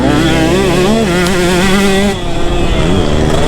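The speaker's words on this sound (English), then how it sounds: "Riding the KTM150SX." A KTM 150SX two-stroke dirt bike engine runs close and loud, with a buzzy, wavering pitch that rises and falls under throttle.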